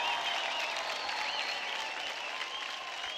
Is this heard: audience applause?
yes